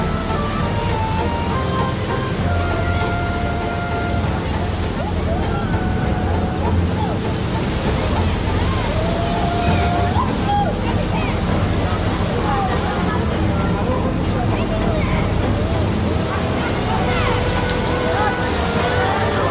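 Ship engines reversing in a harbour give a steady, loud low rumble and churning water wash, with wind noise and a voice speaking over the continuous drone.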